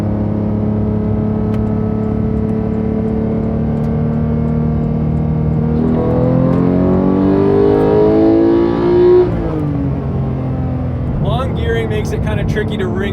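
A manual Porsche 991.2 GT3 revs hard under acceleration on the road, its engine note climbing steadily in pitch before a shift, then rising again, loud and close from inside the cabin.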